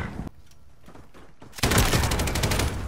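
Light machine gun fire in Modern Warfare erupts suddenly after scattered quieter shots, a loud sustained rattle of rapid rounds that keeps going to the end.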